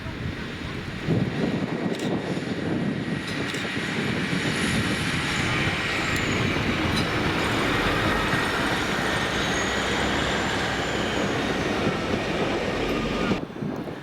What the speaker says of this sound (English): Then it's 2B68, the 1226 Northern service to Leeds from Doncaster with 150 218.